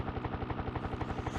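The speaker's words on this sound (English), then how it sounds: "this is like an Apache helicopter, and I am picking up people with an Apache helicopter" Apache helicopter in the Desert Strike video game, a steady, loud rotor chop with regular low thumping pulses and a constant engine drone throughout.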